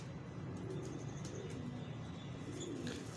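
A baby blue pigeon coos faintly in a few soft low bursts against quiet background noise.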